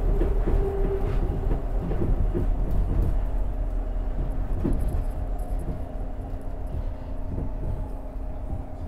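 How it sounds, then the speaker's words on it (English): Steady low rumble of a SEPTA Market-Frankford Line subway train rolling into a station, with rhythmic rail clatter and squeals under a constant mechanical drone. "Frankford train making all stops."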